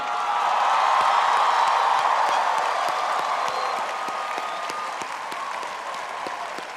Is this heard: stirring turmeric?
no